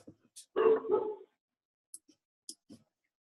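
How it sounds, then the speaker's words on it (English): A dog barks twice in quick succession, close by during a video call, with faint clicks and small noises before and after in otherwise quiet surroundings. "for the dog barking."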